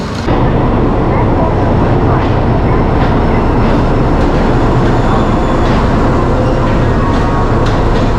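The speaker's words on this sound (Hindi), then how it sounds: "अभी ट्रेन यहाँ पे आई है" Saraighat Express passenger train pulling into a station platform, a steady loud rumble with faint clickety-clack and rail noise running throughout, with some voices mixed in.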